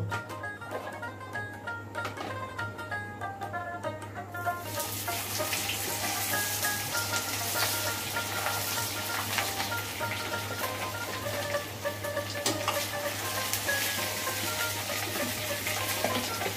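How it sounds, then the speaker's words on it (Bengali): Rohu fish frying in hot mustard oil in a frying pan, a steady loud sizzle that swells and brightens after the first few seconds as the fish goes in, continuing densely with faint stirring clinks. "তেল গরম হয়ে গেছে, এখন মাছ দিয়ে দিব।"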